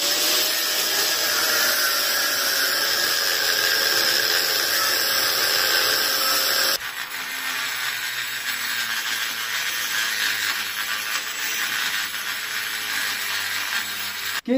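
A moped part is scraped hard and steadily at close range for the whole stretch, a continuous harsh rasping that grows rougher and lower partway through.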